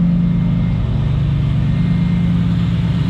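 A 2003 Audi RS6 engine idling with an aftermarket Milltek exhaust, a steady, loud, low rumbling drone heard up close with no other sounds.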